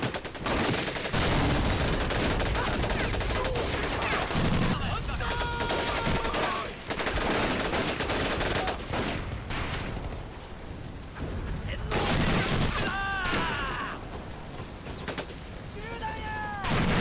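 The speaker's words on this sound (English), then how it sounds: "You guys actually told me that that's a Japanese version of the Lewis gun." Japanese copy of the Lewis light machine gun in Medal of Honor Pacific Assault, heavy bursts of automatic gunfire mixed with other battle shots and explosions, loud and sustained, with shouting voices and whistling sounds between volleys.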